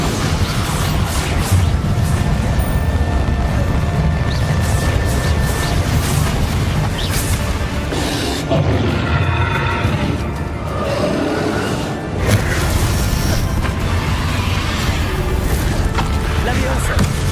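Booming spell blasts and crashing impacts in Hogwarts Legacy combat, loud and continuous with rumbling explosions layered under game sound effects.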